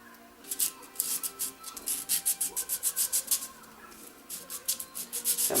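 A small bronze thrust washer for a 1980 Can Am MX-6 125 is rubbed by hand on sandpaper, making rapid, rhythmic back-and-forth rasping strokes that are close and clear, with no speech.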